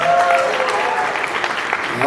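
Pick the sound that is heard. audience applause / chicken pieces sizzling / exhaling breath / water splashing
audience applause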